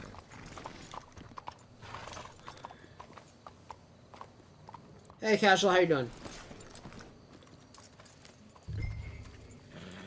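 Horse hooves clip-clop in Red Dead Redemption 2, a short steady run of hoofbeats standing out clearly in the middle of quiet, casual talk.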